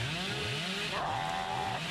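The Hillbilly's chainsaw in Dead by Daylight revs up, a loud buzzing engine whose pitch rises and wavers, then settles into a sustained high whine.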